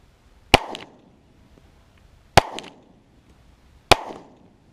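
Pistol shots fired at 30 yards, three sharp cracks spaced about 1.5 seconds apart, each with a short echoing tail against an otherwise quiet outdoor background.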